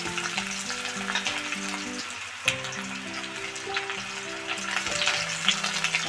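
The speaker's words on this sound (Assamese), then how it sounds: "পিঁয়াজটো অকণমান ৰঙচুৱা হোৱালৈকে ভাজি ল'ম।" Sliced onions sizzle and crackle steadily in a hot pan alongside dried chillies, with repeated scraping and clinking of a spatula as they are stirred; quiet kitchen, no talking.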